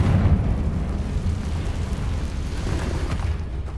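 In the Hogwarts Legacy video game, the Confringo explosive spell goes off as a deep, rumbling blast that opens loudly and then decays into a sustained low roar with no speech.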